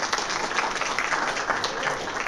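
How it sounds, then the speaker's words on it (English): A crowd at a men's breakfast at a church claps steadily, a dense burst of applause throughout. "let's give them a round of applause"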